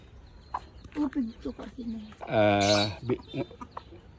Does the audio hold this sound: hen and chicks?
yes